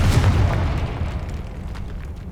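A Confringo fire spell bursts in Hogwarts Legacy on PS5 with a loud, close booming explosion. It rumbles heavily at first and then fades into a long, crackling tail.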